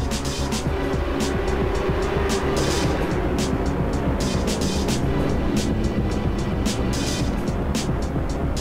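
GT3 race cars, including a Nissan GT-R, race at Imola in the Assetto Corsa sim game, producing a steady, loud engine roar that continues without a break.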